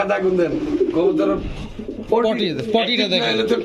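Pigeons cooing at a pigeon market, several birds giving throaty rolling coos close by, mixed with someone talking over them and other bird calls in the background.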